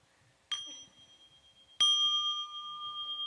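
A small meditation bell rings twice during a dharma talk at a retreat, first a brief struck tone, then a louder, sustained ring that hangs and slowly decays, each strike clear and bright in a quiet room.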